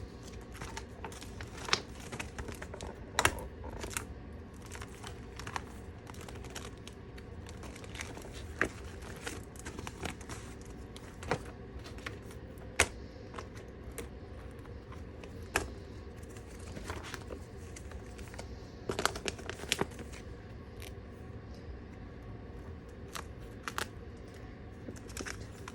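Photocards are handled and sleeved for storage, with soft crinkly rustles, light plastic sleeve crackles and scattered small taps throughout, fairly close and quiet, with no talk.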